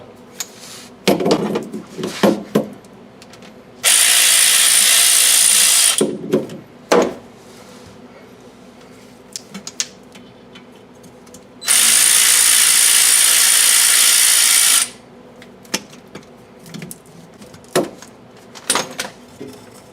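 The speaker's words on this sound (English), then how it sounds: "I'll start removing some of the last few bolts here." A ratchet backing out differential cover bolts on a Ford Mustang's 7.5 inch rear differential: two long, loud stretches of continuous rapid ratcheting, separated by scattered clicks and knocks of tool handling, close up, no talking.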